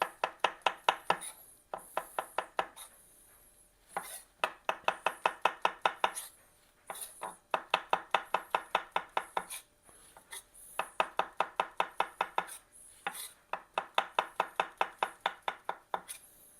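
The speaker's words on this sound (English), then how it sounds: "So now we're just going to slice these mushrooms." A knife slices mushrooms on a cutting board in rapid, even runs of crisp taps, each burst of a dozen or so cuts separated by short pauses, close and clear with no talking.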